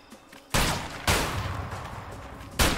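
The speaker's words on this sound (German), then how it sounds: "Das ist eine Machine Gun Sniper. Alter, guck dir das mal an, wie schnell der schießt." Rapid sniper rifle fire in the video game A Way Out: three loud, sharp gunshot blasts in quick succession, each followed by a long booming decay that fills the space between shots.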